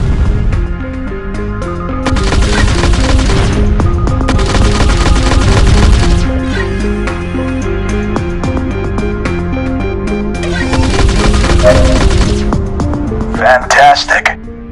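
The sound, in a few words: spaceship energy cannons firing in a VR video game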